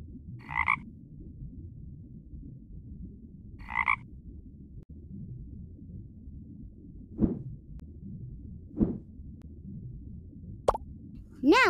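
Cartoonish frog croaks from a pond scene in a video game: short, bright calls repeated at irregular intervals over quiet watery ambience, with a few soft plops and a rising twang near the end.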